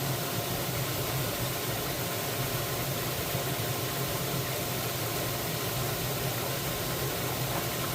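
Gold-washing equipment's engine running steadily at an even idle, a constant broadband drone with no breaks or changes, close and dominant throughout.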